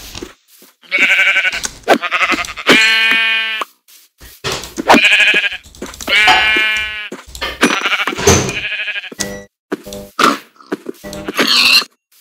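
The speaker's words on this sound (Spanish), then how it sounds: "Ya tenemos otra oveja blanca." Repeated sheep bleats from a white sheep in Minecraft version 1.21 survival mode, several loud, wavering baa calls separated by short pauses, close and clear with no speech.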